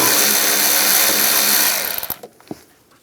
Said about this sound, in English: We're going to loosen up this worm clamp right here using an 8mm socket.